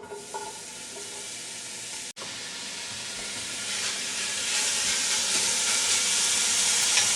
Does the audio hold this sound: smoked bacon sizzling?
yes